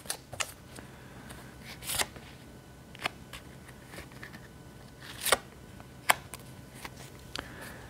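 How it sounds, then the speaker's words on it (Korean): Tarot cards shuffled and drawn from a deck, giving soft papery riffles with a few sharper snaps and flicks spread irregularly across a quiet background, close and fairly faint. "제가 이 첫 번째 카드와 더불어서 두 장의 카드를 더 뽑고"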